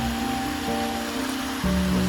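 A roughly 100-foot waterfall at an easy-access public park in Arkansas, heard as a steady broadband rush of falling water throughout with a faint low hum, no talking.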